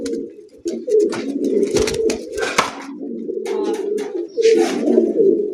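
Pigeons cooing loudly and close in overlapping throaty calls, a domestic flock including giribaz, grizzle and kagji breeds, with wing flutters and rustling between the coos.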